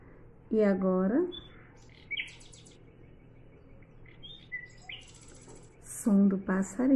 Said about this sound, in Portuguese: som do passarinho.